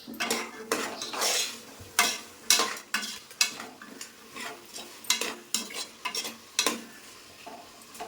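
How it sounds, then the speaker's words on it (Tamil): Potatoes, beans and green peas sautéing in a pan with mint-coriander masala, a spoon scraping and knocking against the pan in repeated strokes over a soft sizzle, close up with no talking. "இது நல்லா வதக்கி விட்டுக்கலாம்."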